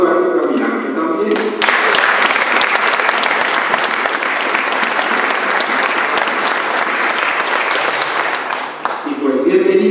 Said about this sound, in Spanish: démosle el aplauso a los caminantes también